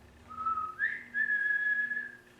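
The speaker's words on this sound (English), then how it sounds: "I let out a whistle that sends him stumbling back" One person whistles a few sustained, clear notes, stepping up in pitch partway through, close and alone against a quiet background.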